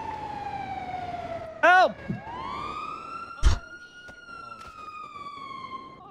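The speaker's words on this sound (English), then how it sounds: "Oh, there's an ambulance." A wailing ambulance siren in the GTA video game sweeps upward and holds a steady tone close by, interrupted by a loud shout and sharp bird-like squawks.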